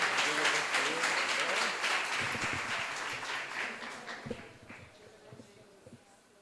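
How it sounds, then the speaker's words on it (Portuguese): A church congregation applauds during a Saturday family worship service, dense sustained clapping that gradually thins and fades, with a few scattered claps and a voice emerging toward the end. "Vamos aplaudir ao Senhor."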